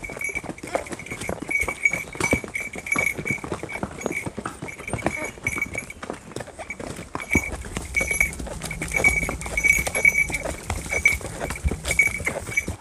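Horse hooves clip-clop steadily along a trail during a horseback ride in Matheran, a rhythmic patter of near steps with faint outdoor ambience and occasional voices in the background.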